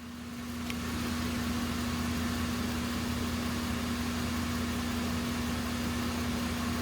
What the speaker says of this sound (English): Engine is running pretty smooth.